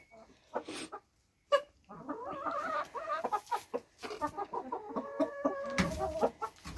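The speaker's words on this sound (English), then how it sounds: "Happy chooks, scratching up bugs, getting some fresh protein." Hens cluck and chatter close by in a busy, uneven run of calls, with scratching and rustling underneath and a few short gaps.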